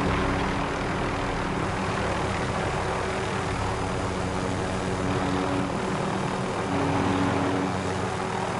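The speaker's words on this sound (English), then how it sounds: "Enemy helo." Enemy helicopter in the Warzone video game, a steady droning rotor and engine roar holding at a constant loud level through the whole stretch, with no voices.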